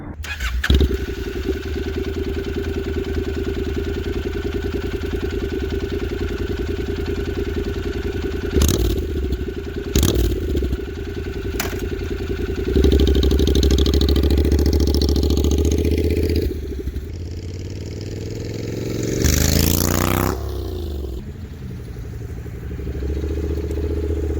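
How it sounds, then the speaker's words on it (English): A Honda CTX700 parallel-twin motorcycle engine, with the exhaust removed, starts and idles with a raw, loud, uncovered rumble, revving up in several bursts before settling back to a steady idle. "it's a parallel twin, yes, but you need to hear it without the exhaust"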